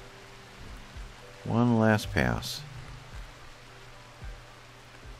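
Steady rain hisses in the RimWorld video game at night, a constant soft wash running the whole time while someone speaks briefly near the middle.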